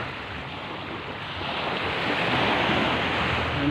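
Loud, continuous roar of strong sea surf at San Juan, Batangas, with rushing water and wind noise, swelling slightly stronger toward the end, no distinct breaks between waves.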